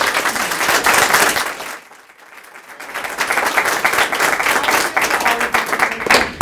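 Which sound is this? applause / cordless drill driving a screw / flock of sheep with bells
applause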